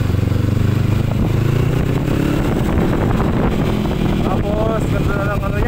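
A Honda CB500F motorcycle engine idles and revs through its muffler exhaust, a loud, close, continuous rumble with a rising pitch, while people talk over it.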